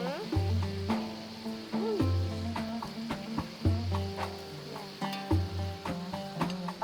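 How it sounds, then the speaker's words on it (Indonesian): Cukut water grass frying in hot oil gives a steady sizzle with a bright crackling hiss, while repeated clanks of stirring and faint background music run throughout; no voices are heard. "Kita goreng sampai kering ya."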